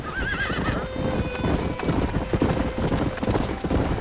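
Horses in the Western video game Red Dead Redemption whinny with a rising, wavering neigh at the start while hooves clip-clop steadily throughout, close and fairly loud over a busy ranch background.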